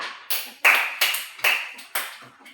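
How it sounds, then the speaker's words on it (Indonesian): A class claps for a student group after an arts and culture presentation, a few scattered bursts of handclaps in short uneven waves, close and fairly loud with no talk. "Tepuk tangan buat kelompok 3."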